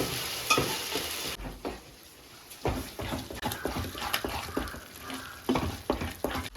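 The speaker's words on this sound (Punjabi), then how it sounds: "ਇੱਧਰ ਸਾਗ ਨੂੰ ਵੀ ਸਾਡਾ ਤੜਕਾ ਲੱਗ ਗਿਆ" Hot tempering for saag sizzles in a pan, crackling in bursts after a brief quieter moment, with scraping stirs and spatters nearby.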